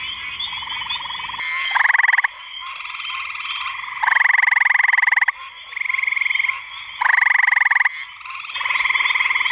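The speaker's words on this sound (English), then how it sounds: "Just came up on this really pretty leopard frog right here." Leopard frogs croak outdoors in loud, close, repeated calls, each a rough, buzzy croak lasting about half a second to a second, separated by brief pauses.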